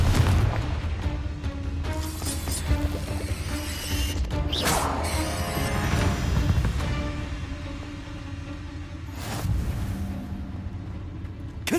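Confringo spells blast repeatedly during a battle in Hogwarts Legacy, loud crashing explosions and bursts erupting at irregular moments over a dense, continuous din of combat and background music.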